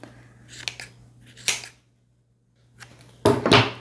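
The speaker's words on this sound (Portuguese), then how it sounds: "Vou cortar aqui também esse excesso de tecido na pontinha." Scissors snip excess viscose fabric at the end of a dress seam: a few quick crisp cuts, then a pause of near silence, followed by a louder final slicing snip, close and alone over a low steady hum.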